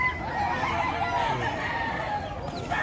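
Roosters at a Batangas poultry market cluck and crow steadily and close by, several birds overlapping throughout.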